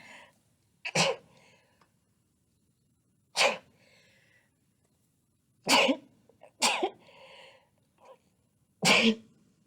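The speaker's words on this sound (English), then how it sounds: "Oh my goodness, I'm gonna sneeze." A series of five sharp sneezes comes in irregular bursts, close and loud, with quiet pauses between them.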